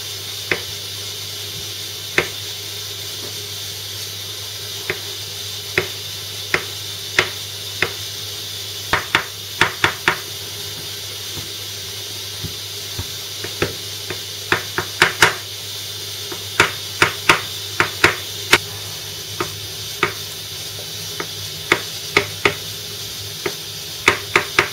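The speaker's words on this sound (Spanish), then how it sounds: "la clara la vamos a picar para añadirla después a los garbanzos" A knife chops boiled egg white on a cutting board, making sharp, irregular taps that start sparse and grow quicker and more clustered, close but fairly light over a faint steady hum.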